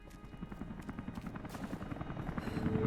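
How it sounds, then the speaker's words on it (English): Helicopter flying in a video game, a rapid rotor chop with steady thumping pulses that gradually grow louder, alone without talk. "last chopper outbound"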